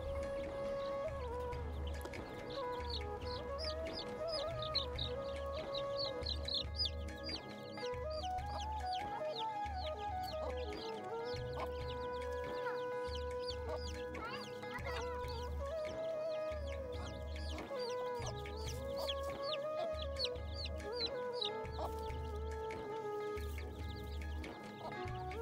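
Several chickens cluck and murmur continuously nearby, with soft repeated calls and a low rhythmic thumping underneath throughout.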